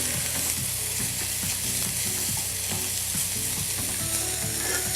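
Pork meatballs frying in oil in a pan, a close, continuous crackling sizzle with a steady pattern of small repeated pops and scraping clicks.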